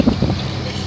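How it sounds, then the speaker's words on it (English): Strong wind gusts buffet the microphone outdoors, a loud, dense rumbling roar that stays constant through a short moment, with no speech. "You guys hear the wind? It's so loud."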